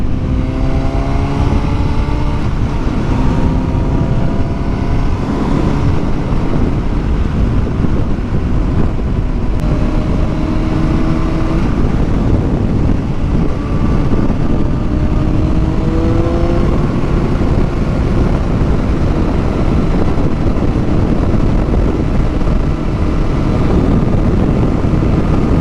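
A 2007 Honda CBR1000RR sport motorcycle on the road, its engine droning loud and steady under heavy wind rush, with pitch rising and falling as it shifts through gears, close to the rider and continuous throughout.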